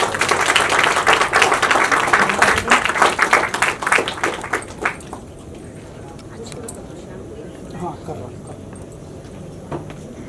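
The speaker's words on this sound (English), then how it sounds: "Can we have the applause, please, guys?" Applause from an event audience at a cultural honoring ceremony in Mumbai, dense clapping for about five seconds that fades to scattered claps and quiet room noise.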